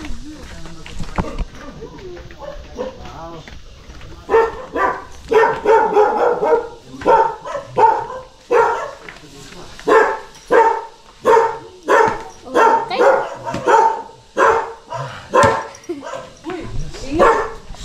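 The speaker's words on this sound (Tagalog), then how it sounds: "Oh, meron silang aso dito." A dog at a house barks repeatedly in a steady run of loud, close barks, with people talking over and between them.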